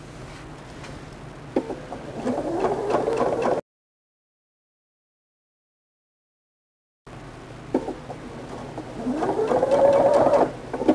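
Sewing machine back-stitching a seam on a quilted Christmas tree skirt: two runs of motor whine that climb in pitch, separated by a few seconds of silence, fairly close and with no talking.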